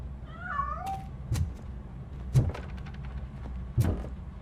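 Cat meowing in the game Robocop: Rogue City: a couple of rising, wavering meows near the start, followed by several sharp knocks or thumps over a low ambient hum.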